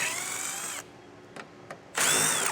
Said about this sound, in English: I'm using a 10mm socket.